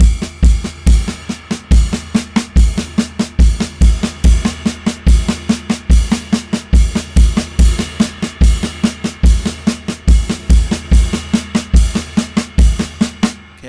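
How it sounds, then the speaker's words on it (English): A drum kit plays a steady melodic pattern with bass drum and crash hits carrying the melody and quick sixteenth-note fill-ins between them, repeating evenly and loud with no talking. "so we're going to put the melody notes on bass and crash, and our fill-in notes go between"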